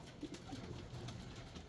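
Fancy pigeons, including a moulting bird and a red male, give soft low coos, faint and brief against a quiet room background.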